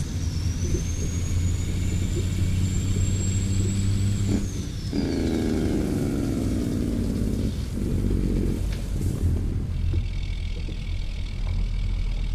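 In American Truck Simulator, a Mack 700 truck engine and exhaust drone steadily under load while pulling a cattle quad trailer in Australia, with a whining shift near four seconds and continuous low rumble throughout.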